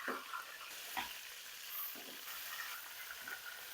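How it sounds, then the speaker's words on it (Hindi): Fish heads fry in ghee with a steady, dense sizzle and hiss, broken by soft periodic scrapes and stirring thumps as the pieces are turned in the pan. "अब इसकी मैं साइड चेंज कर लूंगा और इसको दूसरी तरफ से भी फ्राई कर लूंगा।"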